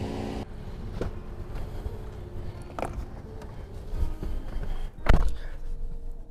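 Inside a 2019 Toyota Camry 2.0G (ACV70) on a test drive, a steady low road and engine rumble fills the cabin. A few soft knocks and bumps sound over the rumble.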